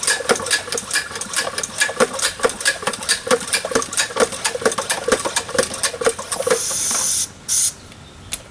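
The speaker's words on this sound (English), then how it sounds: "You're going to pump it till the pop-off valve blows." A hand pump sprayer for concrete sealer is pumped with rapid, rhythmic squeaking strokes for several seconds, then its pop-off valve releases a sharp, loud hiss followed by a brief second burst of escaping air.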